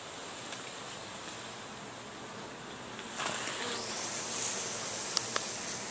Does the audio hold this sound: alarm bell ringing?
no